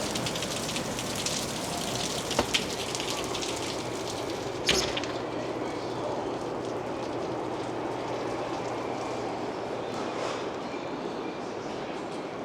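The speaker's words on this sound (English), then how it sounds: "raining so bad." Heavy rain pours down steadily through a storm near an airport, a dense, constant hiss of drops with a couple of brief knocks and no voices.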